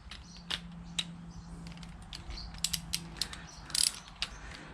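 A torque wrench tightens a fork bolt on a Yamaha WR400F motorcycle, giving rapid ratcheting clicks in uneven bursts, close and crisp, with a sharper click cluster near the end.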